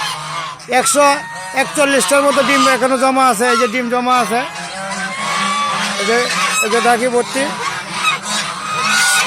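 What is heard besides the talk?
geese honking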